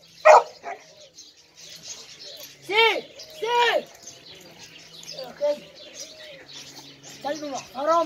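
A pit bull facing a snake gives several short, sharp barks spaced through the clip. People talk around it, and soft cooing bird calls are mixed in.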